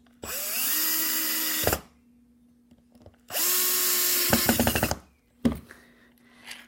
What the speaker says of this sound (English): Putting it back together, tightening the screws.